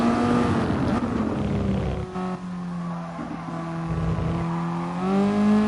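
A race car's engine drones steadily in a video game while cornering on a Brazilian circuit, its pitch dipping as it brakes and climbing again on acceleration, with faint tire squeal.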